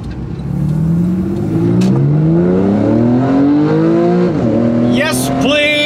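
A Porsche 911 with a PDK gearbox revs in sport mode. The engine note climbs loud and close through several quick upshifts, then a blip and a final rise, while faint voices speak underneath.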